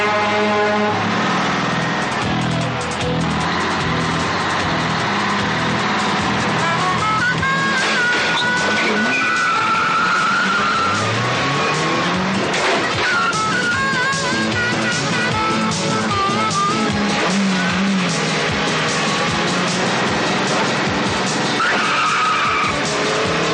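A Renault 9 or 11 skidding after its brakes fail, with loud, sustained tyre and engine noise and music layered over it throughout.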